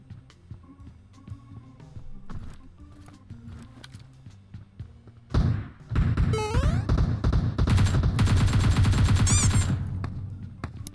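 Gunfire in the mobile battle royale game PUBG Mobile: scattered single shots and game sounds, then loud sustained automatic bursts that crash in midway and continue densely to the end.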